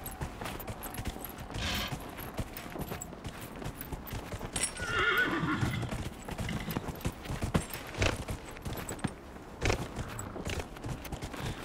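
Horse hooves clip-clop steadily throughout, with a loud whinny near the middle and busy game ambience around it, in Dragon Age: Inquisition.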